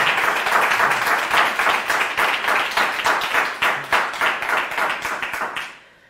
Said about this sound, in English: Give Lafayette Harris Jr. a round of applause